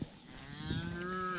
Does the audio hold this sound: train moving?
no